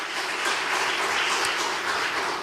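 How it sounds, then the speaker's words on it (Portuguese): A church congregation claps together in a brief burst of dense, even applause that stays steady from start to finish, with no voices over it. "Dê um aplauso a Jesus"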